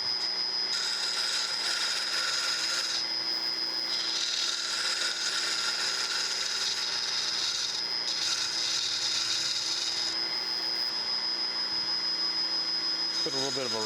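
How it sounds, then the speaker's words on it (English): A scraper tool works a turning wooden chisel handle, probably on a lathe, producing a steady high whine with repeated hissing passes that rise and fall over a low mechanical hum. "smooth that up a little bit. This is just a scraper tool."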